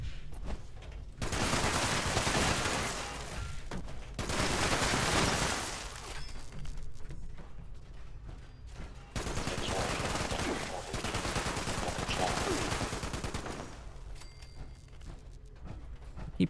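Rapid automatic gunfire in the video game Fallout 76, long bursts of crackling shots that stop and restart several times, with quieter gaps between volleys.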